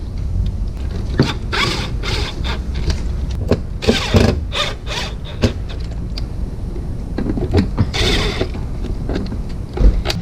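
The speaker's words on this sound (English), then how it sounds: "I'll put some screws back in." Screws being driven back into the shroud of a Coleman Mach basement air conditioner on a Winnebago RV, with a busy run of clicks, scrapes and short whirring tool bursts, loud and close, with no talking.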